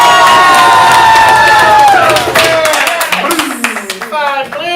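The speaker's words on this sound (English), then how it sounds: "everyone, please cheer and applaud for who you want" An audience cheering, shouting and clapping at a ComedySportz improv comedy match, loud and close, with rising whoops and yells over dense clapping, fading toward the end as excited voices continue.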